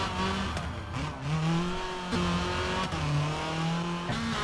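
Rally car in the WRC 3 racing game accelerating hard down a straight, its engine note rising and falling through gear changes, loud and close with no talk over it.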